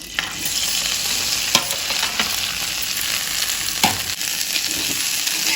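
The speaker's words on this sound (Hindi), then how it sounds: "अब इसी तेल में भिंडी को फ्राई करना है।" Okra frying in hot oil in a pan, giving a loud, steady, close sizzle across the whole stretch, broken by a few brief stirring knocks and no voices.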